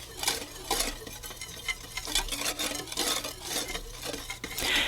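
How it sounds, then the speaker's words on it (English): Whisk stirring dry rice flour, salt, baking powder and sugar in a bowl, soft rhythmic scraping and brushing strokes repeated at close range, fairly quiet. "Season it with a little bit of salt, baking powder for some leavening, and some sugar. Give this a really good whisk."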